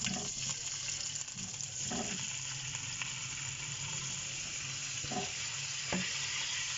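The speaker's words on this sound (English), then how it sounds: "Okay, so I have added around 2 tablespoons of oil, and now my tails are going in." Fish tails fry in about two tablespoons of oil in a pot on a stovetop, giving a steady, fairly quiet sizzle with occasional light scraping and stirring clinks.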